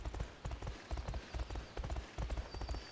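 Horse hooves clip-clop in a horse-riding video game, a steady rhythmic gait of close, distinct beats continuing throughout.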